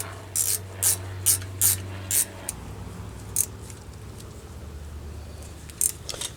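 A ratchet wrench tightens the rear brake caliper bolts on a 2001 Chevy Silverado 1500 4x4, giving several sharp close clicking bursts in a loose rhythm, then a few scattered clicks over quiet mechanical background.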